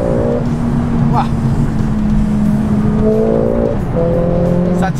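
A Mercedes A45S AMG driven hard sends up a loud, steady engine drone with a few gear-change pitch shifts, while people talk excitedly over it inside the car.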